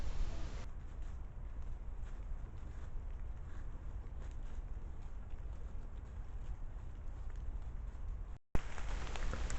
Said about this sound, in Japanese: その後、少し雨が降り出して